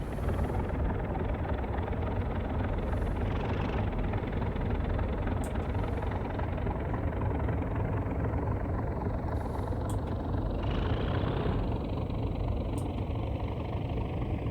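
A Class 37 diesel locomotive engine in Train Simulator revs in a continuous loud, heavy rumbling drone with a steady throb and no talking.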